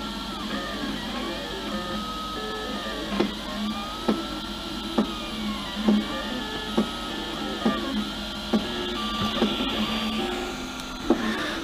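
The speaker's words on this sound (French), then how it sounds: "Et voilà, l'imprimante commence." A DAGOMA DiscoEasy200 3D printer prints a PLA hand spinner, giving off a steady motor whine with rising and falling stepper tones and regular small clicks and thumps as the print head moves, loud and close.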